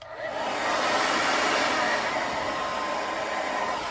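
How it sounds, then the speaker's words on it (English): A handheld blow dryer runs steadily at full power, drying paint on a landscape painting. The broad, even whoosh sounds close and loud, with no talk over it. "Got a blow dryer to blow dry."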